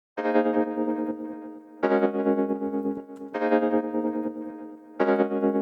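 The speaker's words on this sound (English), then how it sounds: "the repetitions are already happening on top of the actual chord sound while the ducking is turned off" A dense, buzzy synth chord repeats in four strong blocks, each sustaining for about a second and a half, with echo delay repetitions smearing over the held sound, ducking off.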